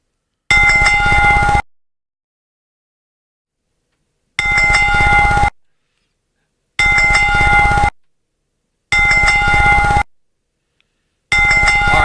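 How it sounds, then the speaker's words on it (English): Played as a sound effect on a podcast, a wrestling bell rings in five separate loud bursts, each a clanging metallic ring of about a second with silent gaps between. "I could do a wrestling bell, too, if we want to do that."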